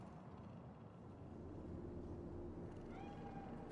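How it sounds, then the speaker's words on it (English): A cat in the video game Cyberpunk 2077 meows briefly and faintly near the end, set against steady city ambience and low rumbling noise. "Do you see it? That cat?"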